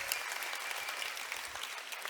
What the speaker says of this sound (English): Give a round of applause to all of you.